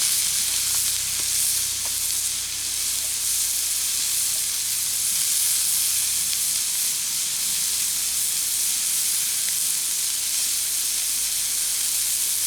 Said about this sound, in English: Hope you guys can hear that sizzle.